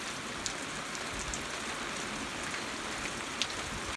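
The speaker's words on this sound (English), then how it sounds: "Probably going to be raining most of today, so that's all I'll be doing is watching the rain." Steady, soft rain falls on an overcast day over pastures with cattle, a dense even hiss with a few faint louder drops and no voices.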